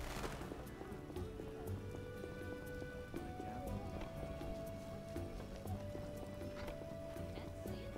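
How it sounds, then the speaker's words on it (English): Heavy rain falling steadily in The Witcher, a constant dense patter with faint clip-clop and other game sounds beneath, no talking. "What a downpour!"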